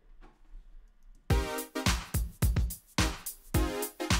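Synth brass preset plays a punchy rhythmic riff of short, bright stabs with a few held chords, loud and close after a faint quiet lead-in.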